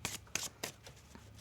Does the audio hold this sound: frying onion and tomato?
no